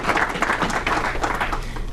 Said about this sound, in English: Let's give her another nice round of applause.